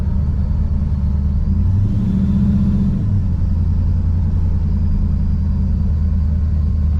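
A 1987 Monte Carlo SS with a newly fitted EFI engine cruises along, a steady low rumbling drone with a brief rise in pitch as it accelerates, heard from inside the car and continuous throughout.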